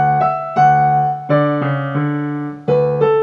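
Piano playing the second line of Bach's Marche, a series of clear sustained notes and chords with distinct attacks, moderately loud and alone with no talking.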